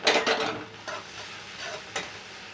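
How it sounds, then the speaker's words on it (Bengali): Fried onions with a little ground turmeric are stirred in a pan, giving a soft scraping stir and a light sizzle with a few sharper utensil clicks near the start and end. "পেঁয়াজটা ভাজা ভাজা হয়ে গেছে। এর মধ্যে আমি একটুখানি হলুদ দিয়ে দিলাম গুঁড়ো"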